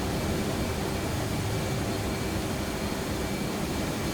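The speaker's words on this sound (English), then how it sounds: "He went afterburner there for a sec." F/A-18 jet engine on afterburner in the DCS flight combat game: a constant, dense roaring rush of broadband noise with a faint steady whine, unbroken and even in loudness throughout.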